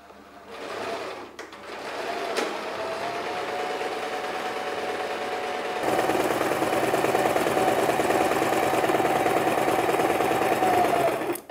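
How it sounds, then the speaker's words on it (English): A sewing machine runs continuously as it stitches fabric along a one-inch seam allowance, a steady mechanical whir that grows louder and faster partway through, with brief handling clicks at the start. "I place the edge against the 1 inch seam allowance point of my sewing machine and just sew it again."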